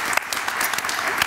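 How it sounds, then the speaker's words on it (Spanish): Brief burst of studio audience applause on a television set, a dense, bright patter of clapping heard up close for about a second. "Un aplauso muy grande para David."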